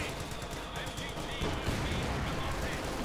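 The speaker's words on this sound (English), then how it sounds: "that's a lot of machine guns there from Quentin" Dense machine gun fire crackles steadily through a Company of Heroes 2 1v1 match, a continuous rattling battle din with several guns overlapping and staying loud throughout.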